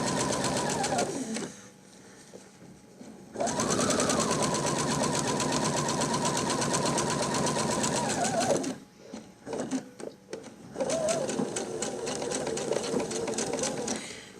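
A sewing machine stitches seams on a ball-shaped coin purse in loud, steady runs of fast mechanical whirring, broken by short pauses and stop-start bursts, with faint speech in the quieter gaps.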